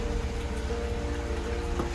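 Rain falling outdoors in Lviv makes a steady, even hiss of drops on surfaces, with a faint constant hum underneath. No one speaks.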